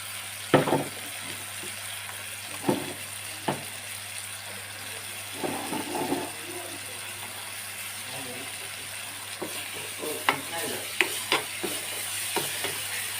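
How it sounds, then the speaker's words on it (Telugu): Coconut, garlic, ginger, cinnamon, clove, cardamom and nutmeg masala paste fries on low heat in oil for Rayalaseema mutton curry, giving a soft sizzle with scattered scraping stirs of a spoon in the pan while someone talks. "సిమ్లో పెట్టుకొని నూనె, ఆయిల్ తేరేంత వరకు ఫ్రై చేసుకోవాలండి"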